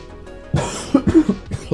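A single person coughs several times in a quick, rough burst, close to the microphone.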